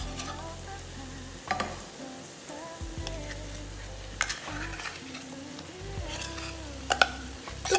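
Tuna is stirred into softened frying tomatoes in a pan, a steady sizzle punctuated by several sharp spoon scrapes and stirs, close and clear with no talk.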